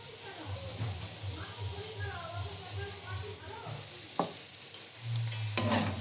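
Fried greens (beto shaak with onion) being stirred in a pan after mustard oil is drizzled over them, giving a soft continuous sizzle with scraping strokes and a few clinks, under quiet speech.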